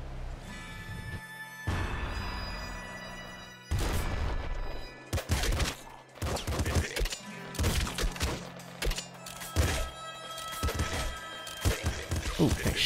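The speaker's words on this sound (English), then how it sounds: "Ooh, he's shooting." Enemy gunfire in the top-down shooter Nuclear Throne comes as sharp, loud bursts and thumps scattered through fast game action, mixed with other game effects and someone talking over it.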